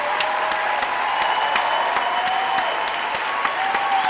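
A high school improv club audience gives sustained, dense applause in a school performance space, steady and loud throughout with no break.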